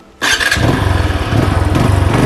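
A motorcycle engine starts on a switch-on, a sharp burst that settles straight into a steady, close, loud idle with fine rhythmic pulsing. The bike is being serviced and had been running unevenly. Nobody speaks over it.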